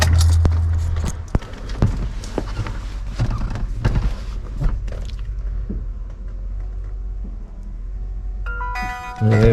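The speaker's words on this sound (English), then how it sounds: "We should hear an audible bell noise." A dash cam fitted in an R33 Skyline powers on with a short, bright electronic chime near the end. Before it come scattered clicks, knocks and handling noises in the car.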